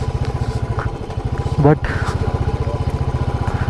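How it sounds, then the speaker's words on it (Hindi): A motorcycle on a dusty mountain road thumps along in a steady, rapid pulsing beat at low gear, loud and close, with someone talking briefly over the engine. "यहाँ पे दूसरे और तीसरे गियर पे ही बाइक चल रही है"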